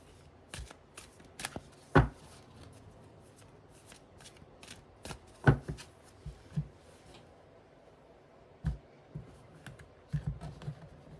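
A tarot card deck shuffled by hand, with several sharp riffle bursts and softer card rustles spread irregularly over about ten seconds, close and clear with no talking.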